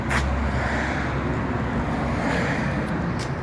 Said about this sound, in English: Excuse the sound of the traffic.